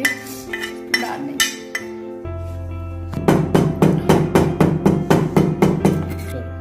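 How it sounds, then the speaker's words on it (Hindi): Roasted cumin seeds pounded coarsely for an aloo matar pulao, heard as a steady run of about a dozen close, sharp knocks with a ringing clink, after a few softer taps, with no talk. "अब हम आधा जीरा जो है ना वो इसमें कूट लेंगे इसको"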